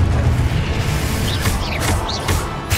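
A loud, dense blasting spell explosion from the Hogwarts Legacy video game, a sustained booming roar with a few bright whooshing streaks flaring over it.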